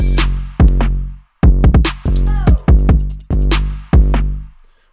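A punchy hip-hop drum beat: deep booming bass kicks and sharp claps with quick ticking hi-hats in a bouncing pattern. No voices.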